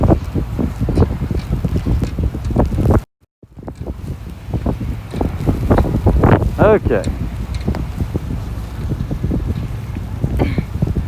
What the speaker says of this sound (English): the wind kind of took a gust there and I think like slammed the camera